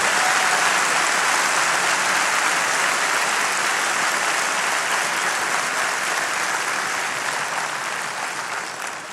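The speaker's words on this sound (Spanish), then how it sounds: "dale un aplauso más fuerte a nuestro Dios que está aquí" Sustained applause from a church congregation during a sermon, dense and loud throughout, tapering off slightly at the end.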